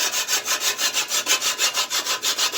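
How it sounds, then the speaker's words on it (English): Whole nutmeg is rubbed against a grater in fast, even back-and-forth strokes, a close scratchy rasp repeating several times a second for a few seconds. "I'm gonna grate a half a nutmeg."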